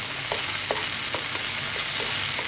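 Mushrooms fry in a pan while cooking an Asian-style chicken sauce, a steady close sizzle with a few stirring clicks scattered through.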